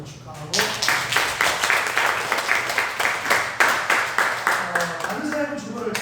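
A church congregation claps to celebrate a child's birthday, keeping a steady, evenly spaced rhythmic beat. Voices can be heard faintly beneath the clapping.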